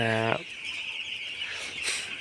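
A broiler chick, nine days old, gives a short clucking call at the start in a chicken shed, then a steady high background hum with faint rustling and a brief chirp near the end.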